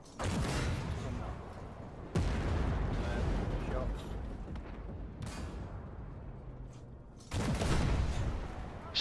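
Heavy gunfire and artillery blasts from a wartime video game on a stormy winter map come in three loud bursts, each decaying into rumbling noise, with faint voices between them.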